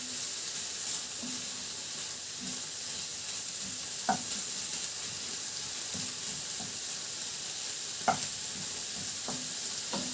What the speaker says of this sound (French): maintenant on fait revenir